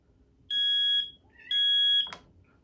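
A Firex smoke alarm's ramp-up test sounds two long, piercing electronic beeps about a second apart, growing into a shrill alarm tone, followed by a brief clatter.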